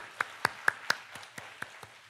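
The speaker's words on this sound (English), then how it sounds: "Please give them another round of applause." Conference audience applause, sparse and thin, with a handful of distinct claps spaced unevenly over a couple of seconds, fairly faint.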